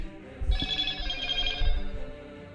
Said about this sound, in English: Forgot to put my phone on vibrate.